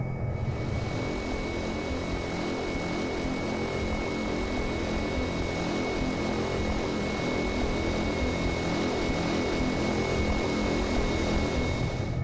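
A Cessna Caravan turboprop in X-Plane 10 taxis toward the runway, its propeller engine holding a steady, loud, unbroken drone with a low rumble and a thin high whine throughout, no voices over it.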